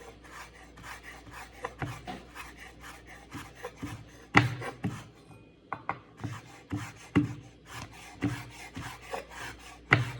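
A kitchen knife slices food into even pieces on a cutting board while an omelet is prepared, making a steady series of rasping strokes and firm taps that stay close and fairly loud, with no talk.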